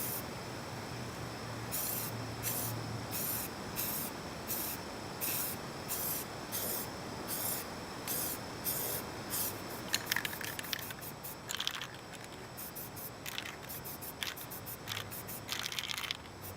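An aerosol spray paint can hisses in a series of short, regular bursts while coating a car's exterior trim, close and fairly loud, with the bursts growing quicker and more irregular toward the end; no one speaks.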